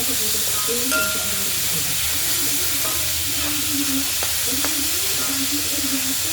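Chicken thoran, chicken with chopped shallots and onion, frying in a pan, a steady close sizzle and hiss with occasional stirring scrapes and clinks throughout.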